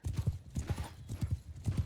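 Hooves of a horse ridden across open country in the video game Mount & Blade II: Bannerlord clop in a quick, steady galloping rhythm, moderately loud, with no voices over them.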